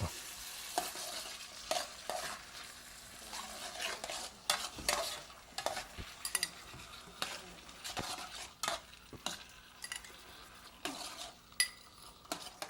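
A mixture with ketchup and already cooked peas heating in a pan makes a soft sizzle under frequent stirring scrapes and clinks of a utensil against the pan, uneven and fairly quiet, without speech.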